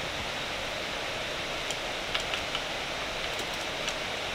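Cooling fan of a gaming laptop running outside performance mode, a steady broadband whooshing hiss at moderate level with a few faint ticks, close and continuous with no voices.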